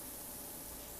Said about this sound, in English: Spray this whole thing down.